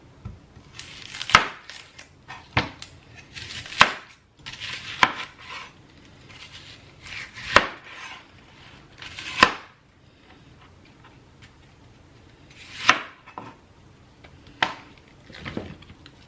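A knife chops through a whole onion on a cutting board for roasted tomato soup, giving sharp, separate knocks in irregular bursts with short pauses between them, close and clear.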